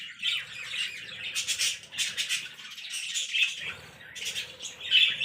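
Lovebirds kept in a home aviary with clay nesting pots, squawking and chirping in shrill overlapping bursts, close and busy with brief pauses between calls.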